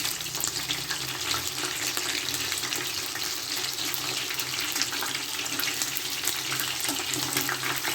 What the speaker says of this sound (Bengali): এখানে মাছগুলোকে ভাজা হচ্ছে।